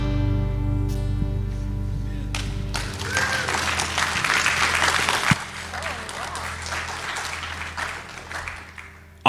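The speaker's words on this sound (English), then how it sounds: "Let's give them one more round of applause, okay?" Applause from an audience at a worship concert: a long, dense wash of clapping that swells and holds after the music's final sustained chord, staying steady before thinning slightly toward the end.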